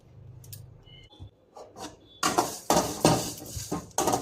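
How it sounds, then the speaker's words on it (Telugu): Fenugreek seeds are fried and stirred in a pan, starting with faint scattered scrapes, then louder rough scraping strokes in repeated bursts near the end. "కొంచెం బ్రౌనిష్ అయినంత వరకు మనం వేయించుకుందాము."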